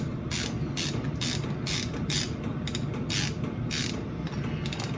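A 10mm part is wound gently into a Kawasaki H2 750 carburettor, giving a series of crisp, evenly spaced ratcheting clicks over a low steady background hum.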